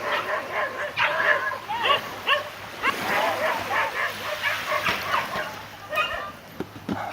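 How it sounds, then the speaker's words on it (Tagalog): Several dogs fight and bark in a rapid, close series of barks, yips and whimpers, with people talking nearby. "Look at all the dogs. They're fighting."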